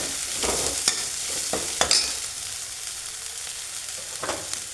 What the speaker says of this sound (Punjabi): ਹੁਣ ਇਹਦੇ ਚ ਪਾਵਾਂਗੇ ਆਪਾਂ ਹਰੀਆਂ ਮਿਰਚਾਂ ਇਹਨਾਂ ਨੂੰ ਮਿਕਸ ਕਰ ਦਿੰਦੇ